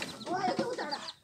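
A mother hen clucks near a poultry coop, giving a short run of close, soft throaty clucks with a voice heard alongside.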